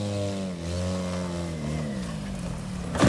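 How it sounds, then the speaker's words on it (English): A Chevrolet car's engine revs hard, its pitch climbing steadily as the turbo spools loudly close by, ending in a sudden rushing burst. "Your turbo was a little loud there."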